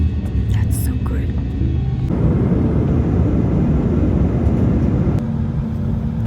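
Steady broadband roar of an airliner cabin during landing on a flight from Washington DC to New York, a low rumbling drone that holds throughout with voices talking over it.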